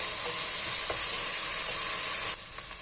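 Chopped pepper and carrot sauté in a hot pan for vegetable soup, giving a steady, close hiss of sizzling oil that runs throughout with no voices.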